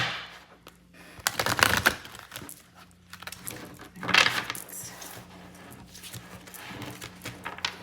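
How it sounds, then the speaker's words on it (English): Tarot cards being shuffled during a tarot and I Ching reading, heard as two loud riffling bursts of card shuffling with softer handling rustles between, close by with no talking. "I'm just gonna do another shuffle."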